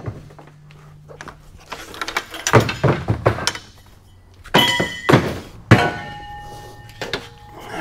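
Heavy scrap radiators tossed one after another onto a metal pile, giving loud clanking thunks and crashes in irregular bursts with brief pauses between throws.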